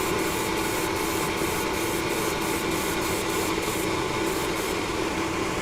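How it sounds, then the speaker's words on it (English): Vallejo surface primer sprayed in a fine mist coat from an airbrush, a steady close hiss running unbroken throughout with faint rhythmic flickers in the upper range. "So again, we'll just give it a mist coat."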